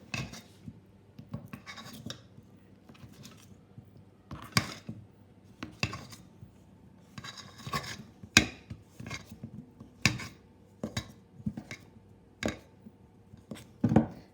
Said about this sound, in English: using my fingertips, I'm going to break up the butter